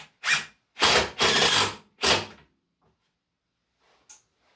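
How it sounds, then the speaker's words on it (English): Power driver sinking 1 1/4 inch screws into wood to join parts of a wooden shaving horse: four loud whirring bursts in close succession, each lasting about a third to half a second, then quiet. "So now I'm going to take 1 1/4 inch screw and screw these together."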